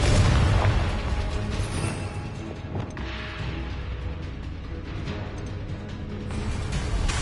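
A Confringo blasting curse in Hogwarts Legacy detonates with a heavy boom at the start, followed by a sustained rumbling, crackling wash of magical energy that fades and swells again.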